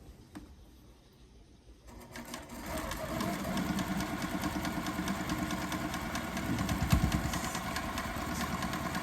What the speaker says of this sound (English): I'm going in with a scant seam on this part.